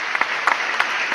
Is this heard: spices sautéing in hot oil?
no